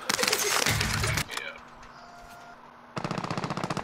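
Light machine gun fire in Warzone comes as rapid, loud bursts at the start and end, split by a quieter gap, with voices talking over parts of the action.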